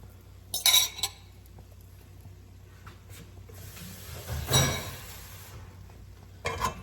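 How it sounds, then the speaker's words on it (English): A utensil scraping and clinking in a skillet while eggs are scrambled in melted butter, a few short metallic scrapes over a faint steady sizzle. "I have some melted butter. And I'm going to scramble these eggs."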